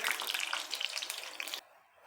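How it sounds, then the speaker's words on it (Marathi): Onion and chili pakoras deep-frying in hot oil give a dense, steady crackling sizzle that cuts off abruptly, leaving near-silence. "पकोडे तळून घेणार आहोत"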